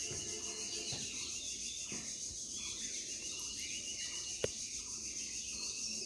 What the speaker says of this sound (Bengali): দেখো চারিদিকে শুধু পাখির ডাক আর পাখির ডাক